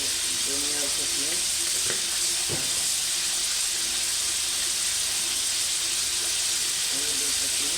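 Softened onions frying with cumin paste and coriander paste for a country chicken curry, a loud continuous hissing sizzle with a couple of brief stirring knocks near the start.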